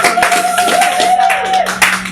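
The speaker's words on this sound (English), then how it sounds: "Just a few more claps." A comedy club audience claps for a comedian in short, scattered bursts. Voices and a faint whistling tone run underneath.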